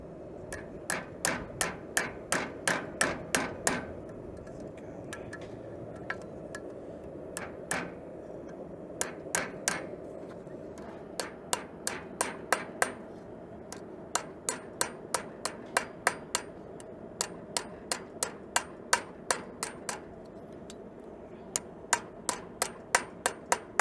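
Hammer blows ring out on heated steel at an anvil while a first pair of blacksmith's tongs is forged, in quick bursts of sharp metallic strikes separated by short pauses, fairly close and steady in rhythm.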